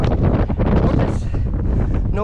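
Strong wind at Tacking Point Lighthouse buffets the microphone, a loud, close rumbling roar with gusty surges throughout.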